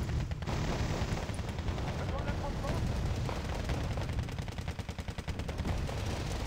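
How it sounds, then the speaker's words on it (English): In the video game Wargame Red Dragon, an anti-tank guided missile fires amid a dense, continuous rumble of battlefield gunfire and blasts that rolls on for several seconds before easing slightly. "That was an ATGM or something."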